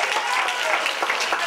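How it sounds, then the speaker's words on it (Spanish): Brief, dense crowd applause at a testimony gathering, many hands clapping loudly and evenly throughout with no gap, voices faintly beneath. "un fuerte aplauso de todos nosotros"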